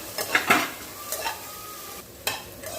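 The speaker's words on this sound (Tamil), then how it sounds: "இது வெறும் கடாயில் தான் நான் வதக்கிட்டு இருக்கேன்" A spoon scrapes and stirs in a dry pan with a light sizzle, dry-roasting pirandai (adamant creeper) and garlic, giving a few brisk strokes up close.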